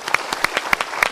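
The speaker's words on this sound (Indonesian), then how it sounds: "Kita berikan tepuk tangan." A few people clap in a short, rhythmic burst of distinct hand claps at a talk event, fairly close and loud.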